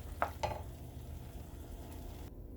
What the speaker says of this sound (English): I'm gonna get this sauce to boil down to be a little bit thicker.